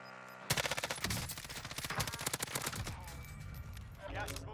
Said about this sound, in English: Why are you shooting at somebody?